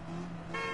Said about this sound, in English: it's only you can hear the air horn and nothing else